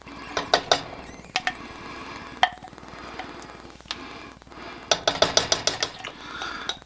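A spoon scrapes lemon custard out of a pan, making irregular metallic clinks and scrapes that cluster in quick bursts at the start and end, close by with no talking.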